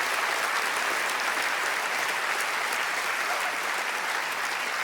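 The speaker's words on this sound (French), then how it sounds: "Un tonnerre d'applaudissements pour Vincent, s'il vous plaît" Thunderous applause from the audience at a comedy festival show in Liège fills the room, a thick, continuous roar of clapping hands, loud and even from start to finish with no talk on top.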